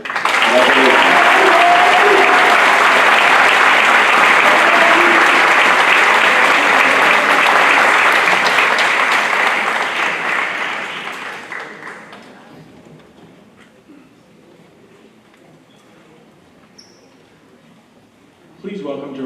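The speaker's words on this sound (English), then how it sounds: "And this year's recipients, please hold your applause, are Ava Galligani, Noah Lee, and Nicholas S" Loud, sustained applause from a large audience at a high school senior awards night, steady for about ten seconds before tapering off into quiet.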